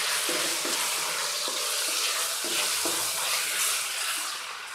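Ginger garlic paste fries with browned onions in a pan, a steady loud sizzle with rhythmic stirring scrapes throughout, easing off slightly at the end, without talking.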